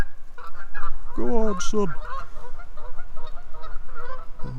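Geese honk loudly overhead in flight beside a reservoir in the Peak District, a short cluster of nasal calls standing out against steady outdoor ambience, with a brief spoken remark.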